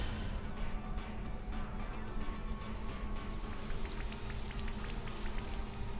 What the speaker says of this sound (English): Who just made it rain?